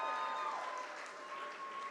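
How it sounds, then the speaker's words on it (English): Brief, faint applause from a gala charity evening audience, a soft even patter of many hands over a low hall hum. "We have a big round of applause for Chris."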